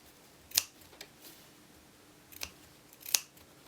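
Scissors snip fabric around the neck band of a dress, three crisp close cuts spaced unevenly across a few seconds, with softer handling noises between them in a quiet room.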